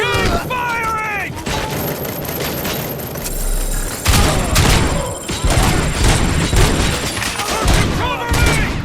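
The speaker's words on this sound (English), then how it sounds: "Keep firing!" Heavy gunfire and thudding impacts in the Robocop: Rogue City video game, sustained volleys mixed with game voices shouting over the loud combat.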